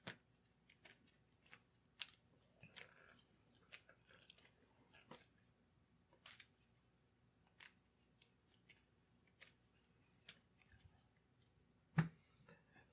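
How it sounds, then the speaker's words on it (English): Sleeved playing cards from a tabletop board game being given a quick shuffle, heard as faint, scattered soft clicks and riffling ticks, spaced irregularly across a quiet room with no talking. "Give this a nice quick shuffle."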